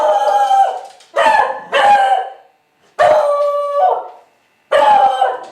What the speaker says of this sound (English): Doggy. Doggy. Doggy.